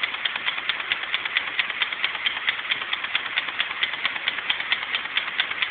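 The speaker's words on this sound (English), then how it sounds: "That's the piston moving back and forth quite fast" A small compressed-air steam engine running at about 5 psi, its piston driving back and forth fast in an even rapid rattling tick, steady and close with no voices.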